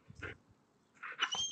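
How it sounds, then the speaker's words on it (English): A dog gives two short, close whimpering yelps separated by a pause, and the second includes a high whine. "it's damn dog"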